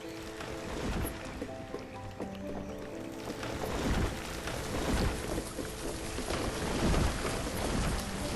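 Steady rain hisses across the whole span in the game Banished, with low rumbles of thunder rolling underneath at a moderate, even level.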